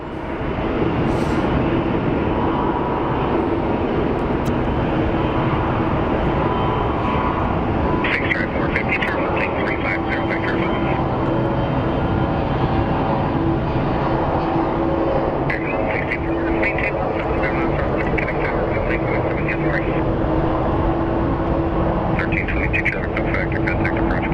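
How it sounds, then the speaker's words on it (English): A CRJ regional jet departing Phoenix Sky Harbor gives a loud, continuous roar that holds steady throughout, while a person speaks intermittently over it. "And there's a CRJ that's about to depart."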